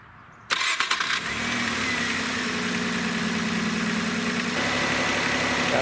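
A car engine with a newly installed serpentine belt cranks with a few quick stuttering turns, catches, and then holds a steady, even idle up close for several seconds, with no voices.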